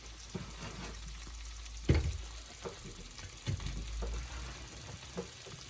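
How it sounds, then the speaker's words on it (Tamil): Paneer stir-fried in a pan, a close, even sizzle broken by scraping stirs and a few louder spoon knocks against the metal, with no talk over it. "இப்போ இப்படி நல்லா ஒரு ஸ்டர் ஃப்ரை அப்படியே ஸ்டர் பண்ணி அதை ஃப்ரை பண்ண"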